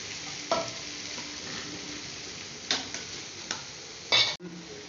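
Quiet, steady sizzle of okra and small onions frying in a pan, broken by a few sharp clicks and scrapes of a utensil stirring.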